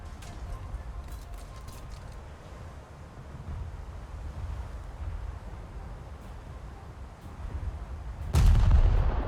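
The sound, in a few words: naval artillery fire from cruiser Furutaka in a video game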